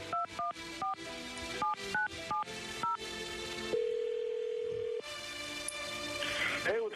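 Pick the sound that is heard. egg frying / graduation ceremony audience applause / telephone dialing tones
telephone dialing tones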